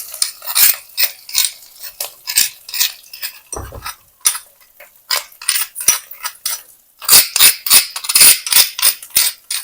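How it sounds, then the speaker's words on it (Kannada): Crushed garlic, cumin, pepper, ginger and green chilli go into a pan and are stirred, giving repeated sharp metallic clinks and scrapes of a spoon against cookware in irregular bursts, close and fairly loud, with no talking. "ಇವಾಗ ನಾನು ಕುಟ್ಟಿಟ್ಕೊಂಡಂತದಿತ್ತಲ್ಲ, ಬೆಳ್ಳುಳ್ಳಿ, ಜೀರಿಗೆ, ಕಾಳುಮೆಣಸು, ಶುಂಠಿ, ಹಸಿಮೆಣಸಿನಕಾಯಿ, ಅದನ್ನ ಇಲ್ಲಿ ಸೇರಿಸ್ಕೊಳ್ತಾ ಇದ್ದೀನಿ"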